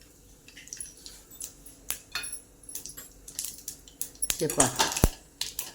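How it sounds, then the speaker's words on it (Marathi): Mustard seeds crackle and pop in hot oil for a tadka tempering. Sharp, scattered snaps grow thicker and louder toward the end, and a voice speaks briefly in between. "आता आपण जिरे मोहरीचा तडका द्यायचा. हे पहा, हे मोहरी टाकून घेतली आपण."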